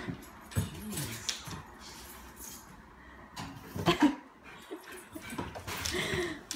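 A dog whimpers and yips in short, faint bursts, with soft rustling between them and a bit of quiet talk nearby.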